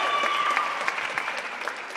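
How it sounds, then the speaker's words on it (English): Audience applause at the Miss Lehi pageant, a dense steady wash of clapping from a crowd, loud and continuous throughout with a faint tonal trace behind it. "Fun round of applause"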